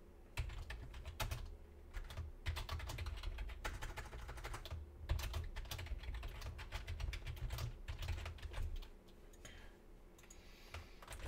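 Rapid typing on a computer keyboard while writing web page code, with dense, quick key clicks in bursts over a low hum, close and fairly quiet, pausing briefly near the end.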